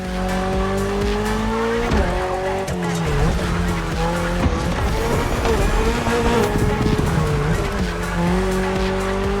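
Toyota GR86 racing in The Crew Motor Fest, its naturally aspirated engine droning loud and steady with shifting pitch while tires squeal and skid throughout, game music layered underneath.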